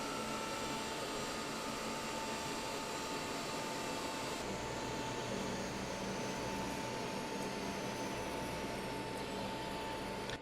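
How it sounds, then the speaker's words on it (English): Airliner jet engines in the FSX flight simulator game spooling down after shutdown at the gate; a steady broadband whine and rumble that drops and thins partway through, continuing to fade with no talk. "As our engines shut down, you can hear them wind down."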